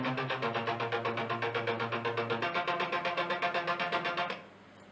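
Distorted synthesizer layers throb in a fast, steady pulse, gritty and bright over a low sustained tone, before stopping abruptly.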